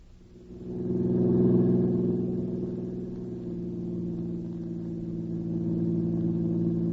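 Car engine driving in an old-time radio drama sound effect, a steady low droning hum that swells in the first seconds and holds at a near-constant level, with no voices.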